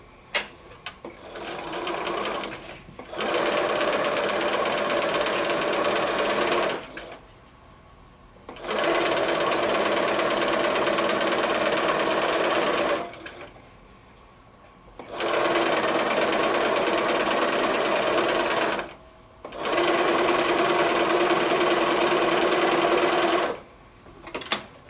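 Sewing machine sewing a quilt block seam from a pre-cut quilt kit, in four long steady runs of several seconds each with brief quiet pauses between them, close and loud, with no talking.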